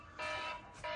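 Two bright electronic beeps, each lasting a moment with a short gap between them, fairly quiet.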